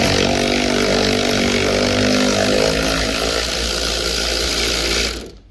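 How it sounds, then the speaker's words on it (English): A power ratchet tightens a nut on a Mercedes W163 during brake booster seal replacement. It makes a loud, close, continuous mechanical whir for about five seconds, then cuts off abruptly. "if you got one of these nice little power ratchets, boom, you can fit it right on there"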